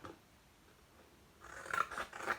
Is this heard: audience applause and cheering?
no